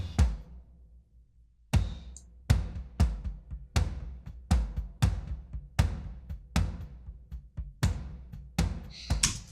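Drum toms blended with samples, a long sequence of punchy, booming strikes with bright attacks and ringing tails, close and prominent with no voices.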